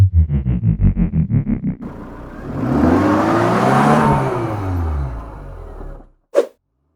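A Tata Nexon 1.2-litre turbo petrol engine idles with a rhythmic throb, then surges into a steady, rising whir as the car accelerates, ending with a short sharp click.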